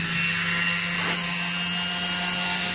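A small Dremel rotary tool whines steadily up close as it roughens the surfaces of broken parts during work on a Honda CT110 postie bike, holding one even pitch throughout.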